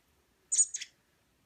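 A baby bird being hand-fed gives a short burst of two quick, high chirps, close and clear against near silence, followed by a faint low thump at the end.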